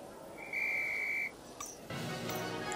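A steady, clear whistle tone is blown once in the Harry Potter and the Philosopher's Stone video game, held for about a second over quiet game background, followed by brief clatter and ambience.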